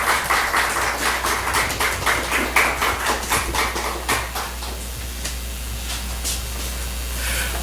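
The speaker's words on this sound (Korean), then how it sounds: "우리 목사님 나오실 때 환영의 박수" At a Korean church's 2019 spring revival meeting, the congregation claps to welcome the pastor. The claps are close and crisp at a quick rhythm, then thin out and fade after about five seconds, leaving quiet room hiss.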